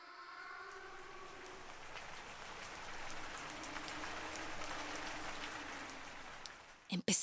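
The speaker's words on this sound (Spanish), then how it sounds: "Empezaba a llover." Rain beginning to fall at nightfall around a ruined stone building, a steady soft hiss of drops spreading across the whole stretch, with a faint low tone underneath and a sharp knock at the end.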